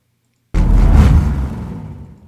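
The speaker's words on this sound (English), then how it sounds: "it's a car rev whoosh. It was actually in one of the sound packs" A car-rev whoosh effect from a sound pack bursts in abruptly as a loud, dense roar, holds for about a second, then thins and fades gradually, with no voices over it.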